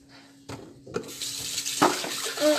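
Water from a kitchen tap runs into the sink as something is given a quick rinse, the broadband splash swelling after a couple of soft knocks and continuing steadily to the end.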